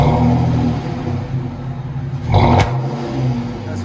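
A 2010 Dodge Challenger 3.5L V6 with true dual exhaust, muffler and resonator removed and Jones Flowpacks fitted, idles with a deep rumble and then gives one sharp, loud rev before dropping back.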